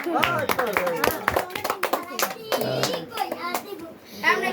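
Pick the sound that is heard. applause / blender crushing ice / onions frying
applause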